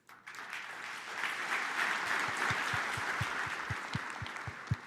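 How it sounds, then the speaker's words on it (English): An audience at a live tech show gives soft golf claps: a murmur of scattered applause swells, then a dozen sparse, distinct claps ring out one after another near the end. "Yeah, golf claps."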